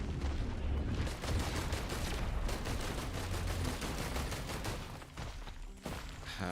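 A character's gun in the video game Risk of Rain 2 fires continuously as a dense, loud stream of rapid shots, easing briefly near the end before picking back up.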